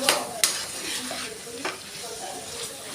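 Ginger garlic paste sizzles in oil in a pan with mutton, a steady soft frying hiss broken by a few sharp spoon clinks and scrapes, close and quiet.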